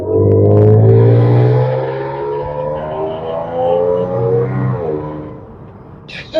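An Audi S4 fitted with a modified exhaust pulls hard under acceleration, a loud, close, droning engine note that holds strong, eases slightly and then fades. No one speaks.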